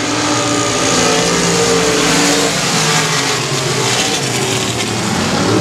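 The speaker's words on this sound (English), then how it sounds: "Your Arklatex Wing Modifieds getting ready to go racing here for a 15-lap feature" Arklatex winged modified race cars at Sabine Speedway roar together as the field takes off for a 15-lap feature, a dense, loud wall of engine noise with steady revving and no talk.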